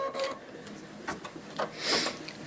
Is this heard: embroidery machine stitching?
yes